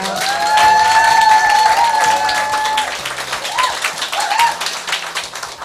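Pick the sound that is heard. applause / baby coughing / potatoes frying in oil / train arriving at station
applause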